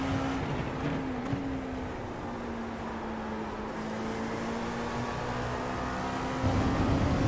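An LMP2 prototype race car at Monza in the iRacing sim holds a steady high engine drone, with little rise or fall and no talking.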